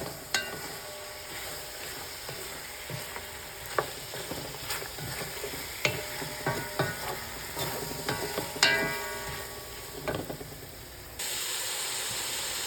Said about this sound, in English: garlic, and we start to mix everything